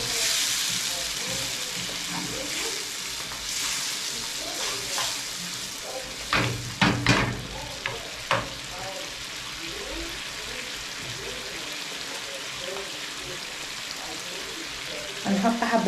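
Grated tomatoes tipped into a hot pan and frying, a steady, bright sizzle with a few louder bursts and clatters of stirring, close, with faint talk in the background.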